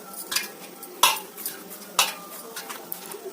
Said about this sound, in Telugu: బాగా జిగురొచ్చేలా కలపాలి